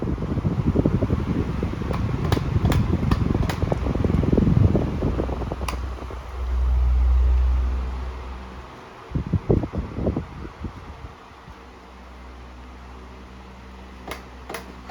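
A Windmere 16-inch pedestal fan runs with a steady, airy whir. Knocks and rustling handling noises come in near the start and again in the middle, and the fan hum continues alone afterward.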